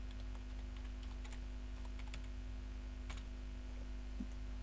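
Typing a shopping list into an Excel spreadsheet on a computer keyboard, with scattered light key clicks in short irregular bursts, close and fairly quiet over a steady electrical hum.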